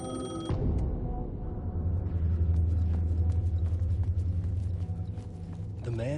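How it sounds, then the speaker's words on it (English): A payphone rings in the video game Alan Wake II, with repeated bell-like rings over a low rumbling, mechanical game ambience that runs steadily throughout. "The payphone was ringing."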